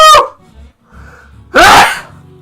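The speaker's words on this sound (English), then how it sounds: "Some sneeze in there." A single loud, sharp sneeze bursts out near the microphone after a brief voiced sound and a quiet pause.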